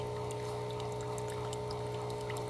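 Continuous trickling and pouring of water from drip irrigation in a mango orchard, steady and close, with a constant low hum underneath.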